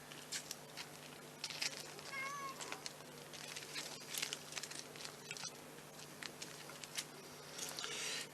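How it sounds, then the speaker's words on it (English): A cat squeaks and meows beside someone shaping sugar flowers, asking to be fed. The calls are brief and fairly faint, set against crinkling and handling noises with no speech. "that's my cat at the side of me telling me he wants feeding"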